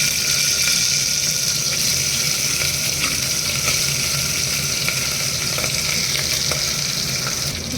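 Mutton chops frying in a couple of spoons of hot oil in a heated pan give a loud, steady, continuous sizzle with faint stirring and no talk.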